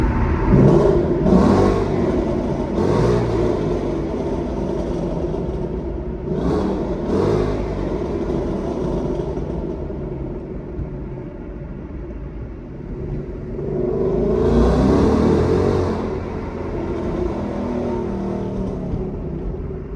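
Naturally aspirated Ford Mustang accelerating through a tunnel at night, a loud echoing engine roar with repeated revving bursts, then a big surge near the end.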